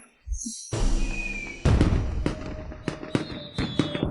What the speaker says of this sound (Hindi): राजधानी में कोई आतिशबाजी क्यों कर रहा है?